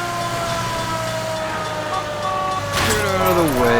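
A siren wails steadily from an emergency vehicle, with a low rumble of traffic underneath, and its pitch sweeps downward near the end as the sound grows louder.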